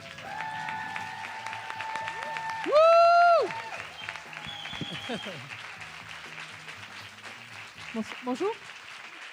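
An audience applauds for a performer as a loud whoop rises above the clapping and a voice speaks briefly, while the applause carries on under a lively, noisy room.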